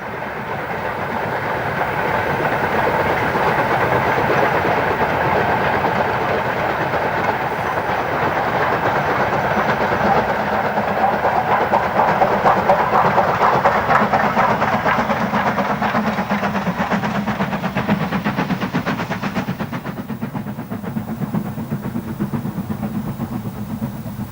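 An LMS Stanier Class 5 4-6-0 Black Five steam locomotive runs on a preserved railway, a loud, steady chuffing rumble with a rapid rhythmic beat and rolling rail noise that holds for the whole stretch before easing slightly near the end.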